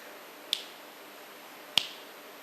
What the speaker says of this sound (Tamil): ஒரு சொடக்கு தான்,